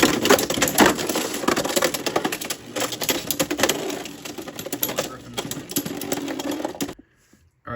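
Beyblade X spinning tops, including Bullet Griffon, clash inside a plastic stadium with a fast, loud rattling and grinding buzz that fades toward the end, then stops abruptly into near silence.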